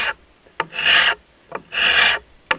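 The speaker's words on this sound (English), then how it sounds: "doing this job is to scrape, because typically the lacquer will just flake off if it's had any kind of sun damage." A tool scrapes lacquer off a brass bell in two long, firm rasping strokes, each about half a second, separated by short ticks and scuffs, close and alone with no talk.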